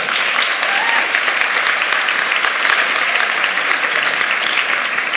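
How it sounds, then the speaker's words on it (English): Steady, dense applause from a conference audience fills the whole stretch, loud and continuous with no break. "round of applause"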